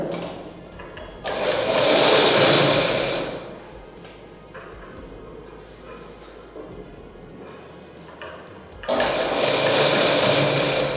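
A sewing machine stitches a hem in a tailoring lesson, running in two loud, fast whirring bursts separated by a quieter stretch of low room noise.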